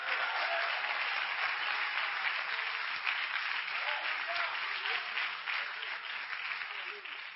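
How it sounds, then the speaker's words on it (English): A church congregation claps hands at a worship sermon, a steady dense wash of clapping that holds for several seconds, with faint voices threaded through it. "clap your hands to the Lord"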